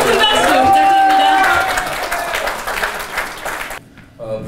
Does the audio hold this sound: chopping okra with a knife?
no